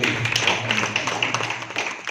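An audience at a business meeting claps in a dense patter of many hands, sustained over two seconds and fairly close, with some voices mixed in.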